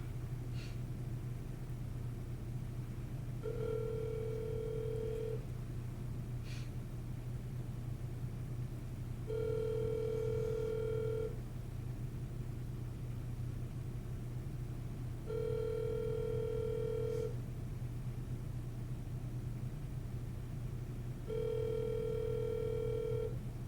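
Outgoing telephone ringback tone heard through a phone while calling, four evenly spaced long buzzing rings about six seconds apart over a steady low hum, with no talking.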